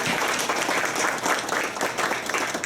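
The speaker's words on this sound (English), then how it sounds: "So let's give them all a great round of applause" A school audience applauds sponsors at a student-of-the-month awards event: loud, close, continuous clapping from many hands, sustained and even throughout.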